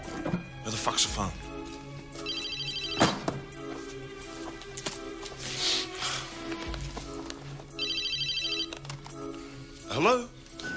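An indoor telephone rings in two separate bursts, heard amid shouting voices, thuds and footsteps.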